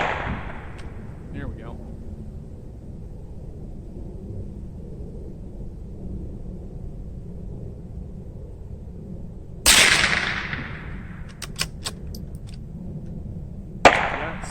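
Two sharp rifle shots from a Mossberg 802 Plinkster, loud and close with short decays, spaced several seconds apart over a low steady background, with a brief spoken remark.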